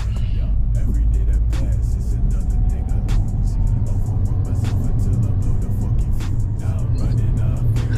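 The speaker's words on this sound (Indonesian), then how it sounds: "Sekarang kita coba akselerasi, kita mulai dari gigi 1 ya, kita tancap." A Fiat 500 accelerates hard from first gear, its engine note droning steadily under constant road and cabin noise, heard from inside the car at a fairly loud level throughout.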